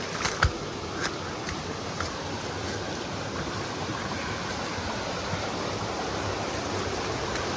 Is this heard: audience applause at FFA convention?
no